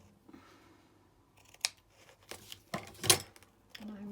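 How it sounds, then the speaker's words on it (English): Paper from a vintage postcard folder being snipped with scissors, a few close, sharp cuts separated by quiet handling rustles. "so I'm just going to cut a piece off."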